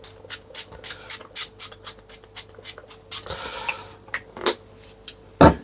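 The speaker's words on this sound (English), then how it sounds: "I'm giving just a little squirt of oil" Short, quick hisses of cooking oil sprayed from a spray bottle onto meatballs headed for an air fryer, about a dozen evenly spaced bursts. A few irregular squirts and a soft clunk follow, all close and with no speech.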